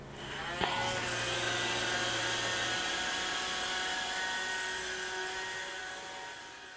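A robot vacuum cleaner runs in a home during a zero-waste cleaning routine, giving a steady whirring drone with a brief click near the start, alone and at moderate distance.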